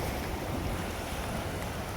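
Ocean waves wash steadily along a hotel's private beach at Anyer, a continuous broad surf roar with wind, close and loud, no voices.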